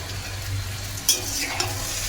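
Pasta and potatoes fry in a pan while being stirred, a continuous sizzle with a low hum and a couple of sharp scraping clicks from the utensil.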